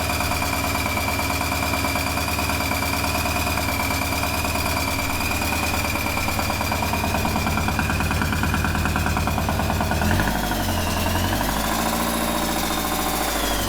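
A Porsche 944 fitted with an aftermarket supercharger runs steadily up close, a constant high whine riding over the engine's drone, with the low engine tone shifting near the end.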